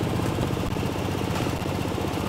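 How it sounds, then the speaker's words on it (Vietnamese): A Honda SH 150i scooter engine runs just after starting, a constant close buzzing drone at even volume with no talking. "Đề lại được liền thì các bạn sẽ nghe tiếng động cơ ở đây nè"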